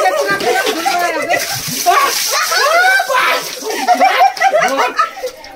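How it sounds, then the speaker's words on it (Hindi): Water splashes and sloshes during outdoor Holi (Dhuleti) water play, with children and adults talking and laughing close by over the wet splatter. "पानी से खेलेंगे हम लोग।"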